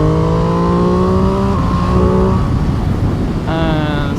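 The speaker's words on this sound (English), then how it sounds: "And such a lovely noise from the intake and from the exhaust as well." An MV Agusta Brutale Dragster RR with a 798cc three-cylinder engine gives a loud, close intake and exhaust note, holding a steady growl before the pitch shifts and climbs near the end.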